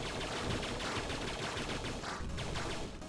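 Rapid gunfire rattles from a weapon in the video game 20XX, a dense, fairly quiet stream of shots running continuously without a break or any talking.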